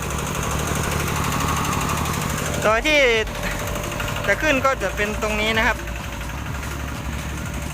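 A truck's engine idles with a rough, chugging rumble as it reverses to load a homemade Thai farm tractor. Someone talks close by over the steady engine noise.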